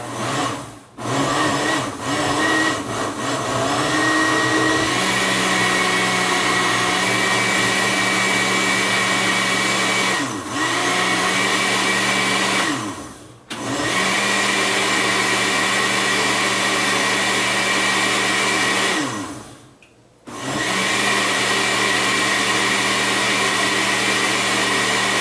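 A kitchen blender whirs loudly and steadily while mixing a cream cheese bread batter, its motor drone broken by several brief stops and restarts, with short dips where the motor pauses before spinning back up.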